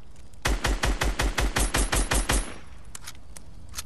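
A rapid burst of about eleven loud, evenly spaced gunshots from a sniper in the video game Fortnite, lasting roughly two seconds, followed by faint scattered clicks.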